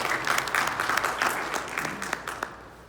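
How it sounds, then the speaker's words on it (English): A lecture audience gives a short round of applause, moderately loud with distinct individual claps, thinning out toward the end. "Give him a big round of applause,"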